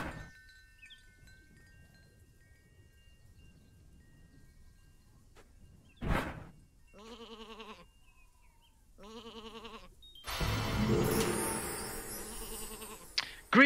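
Sheep in a video game bleat in several short, wavering calls, faint and separated by quiet gaps, followed by a louder burst of clattering game noise near the end.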